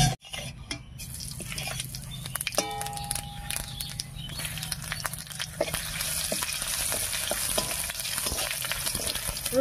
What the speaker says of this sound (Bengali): এই তেলের মধ্যে এবারে ফোড়ন দেবো, আর ফোড়ন দেবো কালো জিরা আর থেতো করা রসুন দিয়ে।